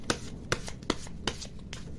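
Tarot cards are shuffled by hand in a quick, even rhythm of soft slaps and riffles, close and quiet, with no voices.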